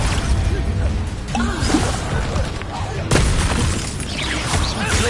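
Bombarda and Confringo spell explosions from Hogwarts Legacy on PS5 burst and crash repeatedly in a dueling fight, loud booms and whooshes layered over game voices.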